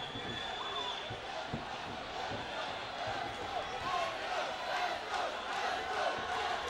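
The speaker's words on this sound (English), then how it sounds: "And the crowd is just chanting." A cage fight crowd at an MMA event roars and chants continuously, a dense wash of many voices with occasional louder swells and thumps.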